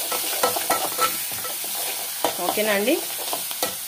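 Onions, ginger-garlic paste and green chillies frying in a pan for a mushroom curry, a continuous sizzle with repeated scraping stirs close by, and someone speaking briefly partway through.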